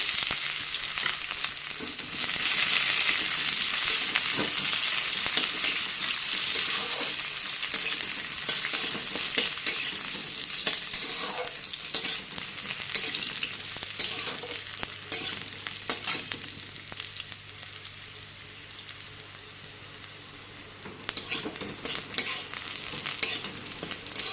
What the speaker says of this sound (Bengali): রসুন পেস্টটা লাল করে ভেজে নিলাম